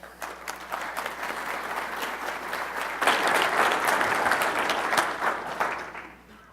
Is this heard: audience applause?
yes